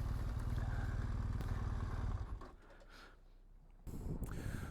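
A motorcycle with carburetor problems on an adventure ride in the Australian outback: the engine runs rough and loud up close, cuts out abruptly, then fires back up after a short quiet gap.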